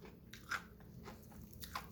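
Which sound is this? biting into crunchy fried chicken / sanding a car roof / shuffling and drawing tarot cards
biting into crunchy fried chicken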